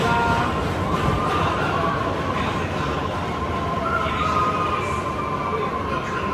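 A train pulls in and keeps running, a loud steady rumble and rail hiss lasting the whole time, with a voice talking now and then over it.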